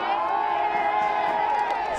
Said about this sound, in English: The crowd appreciating the hit.